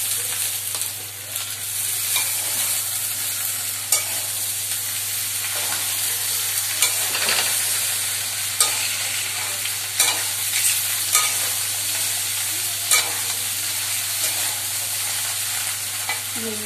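Okra tossed into a pan with already fried potatoes sizzles steadily, broken by repeated scraping and clinking stir strokes every second or so, close and without talk.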